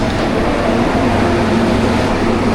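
A Hong Kong metro train rumbles steadily at a station, a loud, continuous low drone with a faint hum and no voices.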